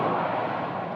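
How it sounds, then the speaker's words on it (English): An Airbus A320 airliner passes Phoenix Sky Harbor Airport, its broad jet engine roar loud and steady throughout the brief moment. "This A320 will be heading to Tucson."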